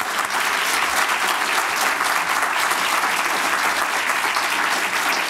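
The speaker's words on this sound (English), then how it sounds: "Please join me in giving a warm round of applause for these panelists." An audience at a symposium panel discussion applauds the panelists, a dense, steady roar of many hands clapping at close range that holds evenly for the whole stretch without pause.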